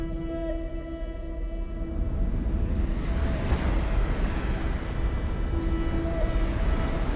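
Steady surf from the sea washes continuously as a broad, fairly loud rush with some wind buffeting, alone without voices.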